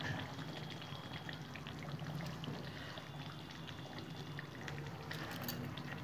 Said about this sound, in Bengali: আমি এখন উপর দিয়ে নামানোর আগে একটু তেল ছড়িয়ে দেবো।